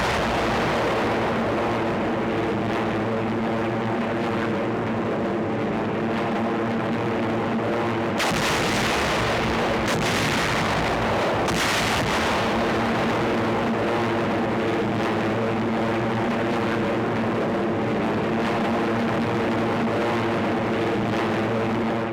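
An RAF bombing raid pounds naval and gun installations and an island airfield at Helgoland, a dense continuous roar of explosions and aircraft drone with heavier blasts breaking through midway.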